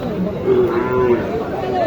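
A single Nepali cow moos, a loud, drawn-out low call close by at Mataji cattle market in Naogaon, Bangladesh, with faint background chatter behind it.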